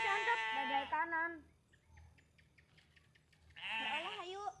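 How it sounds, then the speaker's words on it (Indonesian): Sheep bleating loudly and close, two long wavering calls separated by a quieter pause with faint rustling and background noise. "Cerewet domba nage."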